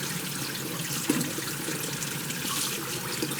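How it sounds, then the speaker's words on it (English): Pomegranate seeds brushed from the fruit drop into a bowl of water, a continuous close watery trickle and splashing with a couple of slightly sharper plops. "you brush and just start popping them out. And they're brushing them, and they just start falling right into my bowl"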